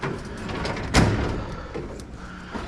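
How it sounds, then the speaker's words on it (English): A shop drawer slides open and shuts with a sharp knock and a brief rattle, close and fairly loud, followed by fainter scraping. "I just open them all, and usually when you're looking for some, it's the very last drawer every time."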